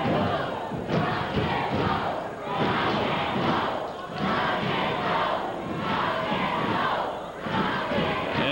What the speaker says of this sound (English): And the crowd solidly behind Morton as I anticipated